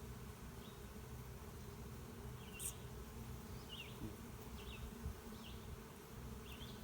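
Honey bees buzz steadily around an open beehive during a hive inspection, a dense low drone with individual bees flying close past now and then; no one speaks.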